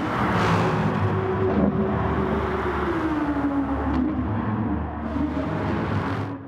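An Audi R8 GT3 race car in GT Sport laps the Lago Maggiore GP II circuit, its engine droning steadily at high revs, with the pitch rising and dipping slightly through the corners. No one speaks.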